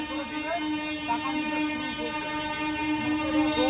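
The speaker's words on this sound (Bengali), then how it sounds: "ট্রেন আসছে বাবা, কোথাও আওয়াজ করে করে।" A train approaching in the distance, a steady rumble with sustained horn-like tonal blaring held across the whole stretch, moderately loud and continuous.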